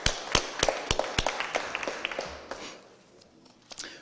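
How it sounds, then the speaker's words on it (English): Scattered applause from a small group at a city board of aldermen meeting, a few distinct claps in an uneven rhythm that thin out after a couple of seconds, with faint murmurs in a quiet room. "Join me in a round of applause for Pastor Lloyd and his deacon, Farrakhan."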